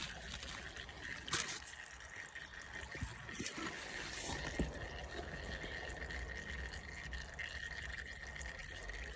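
Engine oil trickling steadily out of a Yamaha Raptor 700 ATV into a drain container, a faint continuous liquid stream with a few small knocks, quiet and alone.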